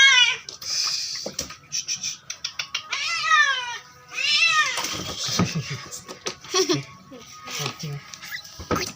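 A house cat meows repeatedly while being bathed in warm water, its cries rising and wavering in a steady run of calls, close and fairly loud, with a person talking in between.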